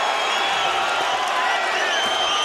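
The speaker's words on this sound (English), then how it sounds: "The crowd back into it for Bute." Boxing arena crowd in a fight between James DeGale and Lucian Bute, cheering and roaring steadily for Bute in a dense, continuous wash of voices with scattered whoops.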